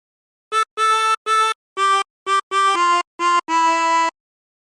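Chromatic harmonica playing a short melodic phrase: about nine clean sustained notes in separate breaths, some quick and some held, ending on a longer tone, solo and close.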